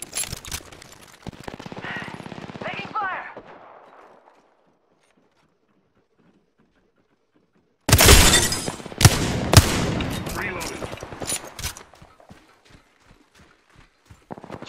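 Rapid bursts of gunfire in the Apex Legends shooter, a dense volley of sharp cracks after a stretch of near silence, then scattered shots and clatter trailing off.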